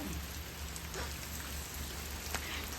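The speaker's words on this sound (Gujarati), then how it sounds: "વરસાદ હજી એવો ને એવો જ વરસે" Rain falls steadily in a soft, even patter, with occasional louder drops, heard alone.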